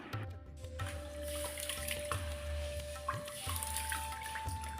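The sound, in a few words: washing finger millet in water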